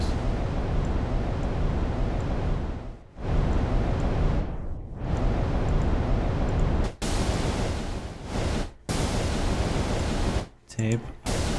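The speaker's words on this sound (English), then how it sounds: "Brown noise." Deep, rumbling brown noise from a MicroBrute synthesizer roars steadily, like a low rushing wind, with a few sweeping dips and sudden brief cutouts along the way.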